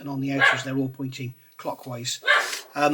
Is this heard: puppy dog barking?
yes